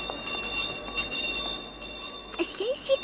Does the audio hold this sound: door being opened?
no